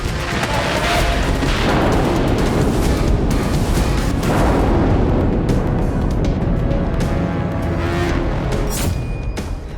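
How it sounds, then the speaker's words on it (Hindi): An anti-tank missile striking an Israeli Merkava tank in Gaza, a heavy rumbling blast that fills the scene, then debris crackle and a slowly fading roar. "वीडियो में मरकावा टैंक को एंटी टैंक मिसाइल से निशाना बनाते दिखाया गया है।"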